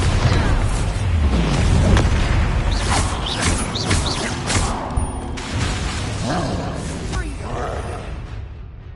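Bombarda spell blast in the Hogwarts Legacy video game, a loud booming burst amid dense, continuous battle effects and rumbling low end, with creaking mechanical game sounds throughout.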